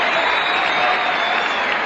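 Concert audience applauding a singer at the Rivoli cinema in 1960, a dense, steady roar of clapping hands filling the hall without pause.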